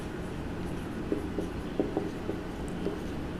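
Chalk or marker writing on a board during a physics lesson on image formation by lenses, a series of faint, short taps and strokes against a steady room hum, with no voice.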